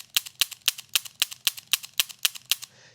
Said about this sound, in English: We want to dry fire it again 6 to 12 times